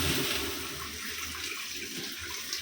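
Tap water runs steadily while vegetables such as cauliflower, ash gourd, pointed gourd and potatoes are washed in a kitchen, a continuous close splashing rush with no talk.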